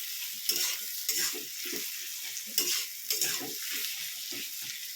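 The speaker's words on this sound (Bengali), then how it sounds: "ভালো করে লাল লাল করে আমি পেঁয়াজটাকে ভেজে নেব" Onion fries in a pan for a Bengali chicken curry, cooked until reddish-brown. A steady close sizzle runs throughout, broken by repeated scraping stirs of a utensil against the pan. No one speaks.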